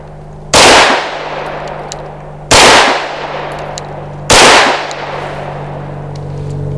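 Three loud, sharp handgun shots fired at an outdoor range, evenly spaced about two seconds apart, each with a quick decaying ring, over a steady low background hum.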